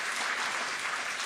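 Steady audience applause at an interfaith lecture as a speaker is welcomed to the stage, a dense, even wash of clapping from a full room throughout with no voices.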